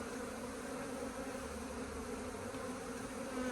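Honeybees buzz on a hive frame fitted with drone foundation during an inspection, giving a thick, continuous drone close up, steady and even throughout with no voices.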